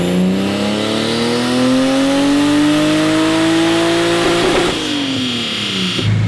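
2JZ-swapped Nissan 240SX on a dyno at 10 psi of boost, engine revving hard through a pull, its loud droning pitch climbing steadily before easing off near the end.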